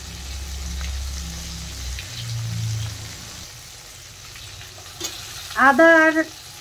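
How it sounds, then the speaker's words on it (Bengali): Spices for a Bengali silver carp fish curry with potato and pointed gourd, with salt, turmeric, chili powder and ginger-cumin paste, fry and get stirred in a pan, giving a steady low sizzle with scraping, then a brief clatter near the end. "এখন ভালোভাবে নেড়ে চেড়ে কষিয়ে নেব।"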